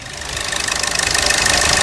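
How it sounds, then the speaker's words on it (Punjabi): A car engine runs steadily under an open hood during a diagnosis, a loud close idle with a fast, even rhythmic ticking pulse throughout. "ਇੰਜਨ ਦੀ ਸਾਊਂਡ ਬੜੀ ਪਿਆਰੀ ਹੈ"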